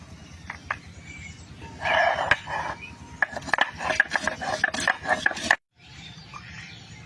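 Hand grinding of garam masala spices on a stone, likely with cardamom, in a village kitchen: rhythmic scraping and rubbing strokes, close and moderately loud, speeding up midway before stopping abruptly, with a brief resumption at the end.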